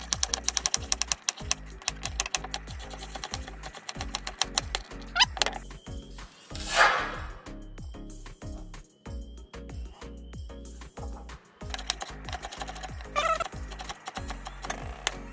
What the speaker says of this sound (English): and then we're gonna start cutting them after that. Potato. Just gonna cut this one.